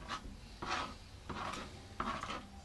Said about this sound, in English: I forgot my spatula. So I'm using a piece of wood.